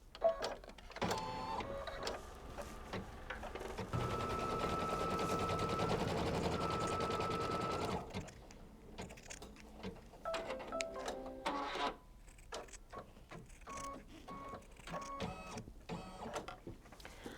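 An embroidery machine stitches a placement line onto stabilizer for a quilt background, a fast, steady mechanical rattle running for several seconds, close and loud, with quieter clicks and handling sounds before and after.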